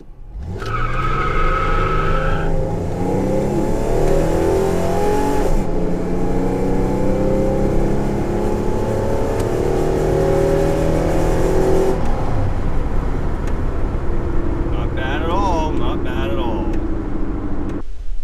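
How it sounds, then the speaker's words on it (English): A 1997 Chevrolet Camaro F-body on decent tires pulls hard at full throttle in first gear, its engine note loud, close and sustained, rising in pitch with a brief chirp of tire squeal and a shift break midway. "I think it's time for a little victory first gear, full throttle."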